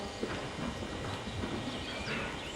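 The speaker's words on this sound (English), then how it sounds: "Keep her cantering, Zoe." A dressage horse canters in an arena with its rider, hooves landing in a steady rolling rhythm of soft thuds under faint background noise.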